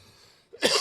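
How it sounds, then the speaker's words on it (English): A single short throat clearing, a brief rough burst after a moment of near silence. "Excuse me while I clear my throat."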